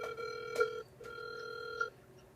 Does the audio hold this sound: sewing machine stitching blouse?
no